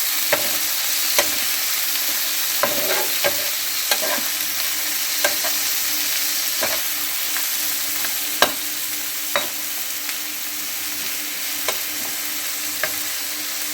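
Mushrooms fry in a pan with a steady, close sizzle, and a utensil scrapes and clacks against the metal at irregular intervals. No one speaks.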